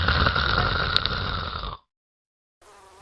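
A man snores in one long, rough, rumbling breath like a running tractor, close and loud, followed by a brief silence and then faint background sound.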